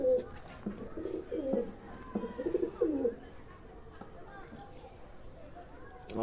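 A domestic pigeon with clipped wings coos in a few soft, low bursts near the start, close by, while someone talks over it.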